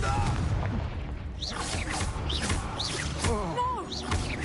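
Repeated spell blasts from Confringo casting in Hogwarts Legacy, a run of booming, crackling impacts and whooshes over a dense game soundscape with a voice talking alongside.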